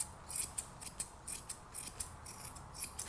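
Scissors snip through a Labradoodle puppy's ear fur during grooming, a quick run of close, crisp metallic cuts in an uneven rhythm, about a dozen snips over a quiet background.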